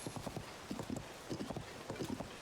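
A horse trotting in the video game The Legend of Zelda: Tears of the Kingdom, its hooves making quick, regular clip-clop beats, soft and close, with no other sound.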